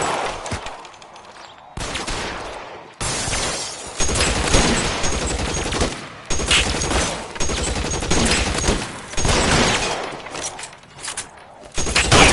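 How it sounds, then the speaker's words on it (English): Bursts of gunfire in an L.A. Noire shootout, loud and close, with a rapid volley, a pause, then sustained heavy firing carrying on to the end. "Shots fired"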